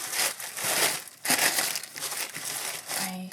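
Clear plastic bag crinkling and rustling up close as used work trousers are packed into it, irregular crackly handling bursts with brief pauses.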